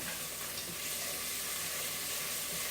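Capers frying in a pan for lemon spaghetti with shrimp, a dense, steady close-up sizzle and crackle that carries on without pause, with no voices.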